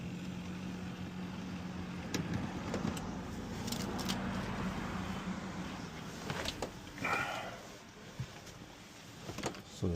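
A 2004 Ford Mustang Mach 1 with a defective MAF sensor is cranked over, giving a quiet, steady low engine rumble with a few faint clunks and rattles later on.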